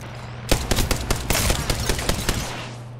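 Rapid automatic gunfire in an Apex Legends ranked match, a loud close burst of shots with short gaps, lasting about two seconds over a steady low game hum.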